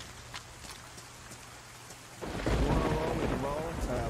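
A thunderstorm in the DayZ video game: soft rain patters at first, then a deep rumbling thunder roll breaks in and stays heavy with downpour to the end.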